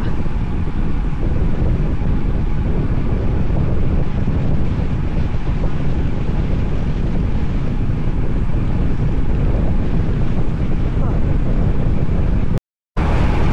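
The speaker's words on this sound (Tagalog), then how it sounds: "So grabe yung hangin. Sobrang lakas." Strong wind buffets a cyclist on a long, windy ride, a loud and constant roaring rush of wind noise against the microphone that persists unbroken until a sudden brief dropout near the end.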